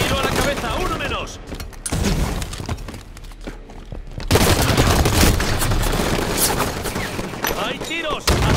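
Dense bursts of rapid automatic gunfire and shattering impacts from a Halo 5 multiplayer match crackle almost continuously, loud and close, with a short quieter stretch in the middle and speech layered over the battle.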